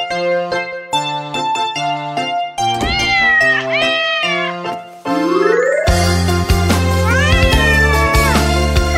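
Cartoon cats meow repeatedly in a children's nursery song about naughty kittens, drawn-out pitched meows and caterwauls layered over a bright, bouncy musical backing with bells, loud and close.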